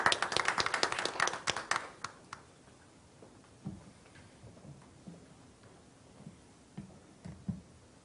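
A conference audience claps to welcome a keynote speaker at an education forum: a brief burst of loud, crisp clapping that quickly thins into scattered claps and settles into quiet room noise with a few soft knocks.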